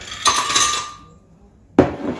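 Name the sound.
ice cubes tipped into a blender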